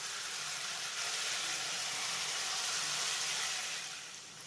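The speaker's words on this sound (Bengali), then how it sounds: "মশলাটাকে এইভাবে একটু কষিয়ে নেওয়ার পরে এবার আমি এর ভিতরে অ্যাড করব ভেজে নেওয়া মুগ ডালটা" Fried mung dal tipped into a hot, sizzling spice masala for a bottle gourd (lauki) dish gives a steady, close, broad frying hiss that holds evenly and then eases off at the end.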